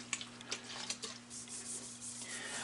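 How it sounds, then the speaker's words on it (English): Sandpaper of 600 grit rubs against a wooden salad bowl on a lathe, a steady soft scratchy hiss with a constant motor hum underneath. "and then I will sand it again at 600 grit because the alcohol will raise the grain"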